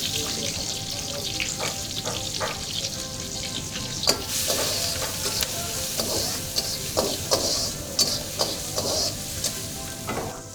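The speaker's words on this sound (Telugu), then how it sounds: "ఉల్లిపాయలు వేగాలండి." Onions sizzle and fry in a pan at a home-style Andhra kitchen, a steady close hiss with scattered crackles and sharp stirring clicks throughout, no talk.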